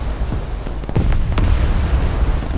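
Naval gun salvos and shell explosions from a battleship fight in War Thunder land as several sharp booms over a continuous low rumble, with a couple of louder blasts around the middle.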